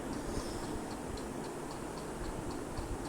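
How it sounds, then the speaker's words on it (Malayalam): A train rolls in within the Free Fire battle royale game, heard as a steady mid-level rumble with faint regularly spaced clacks ticking across the whole stretch, no talking over it. "Oh train arriving soon guys."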